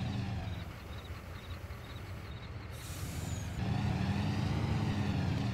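A delivery truck in Farming Simulator 22 backs up with a steady diesel rumble, a brief sharp hiss of air partway through, and the engine growing louder and fuller near the end.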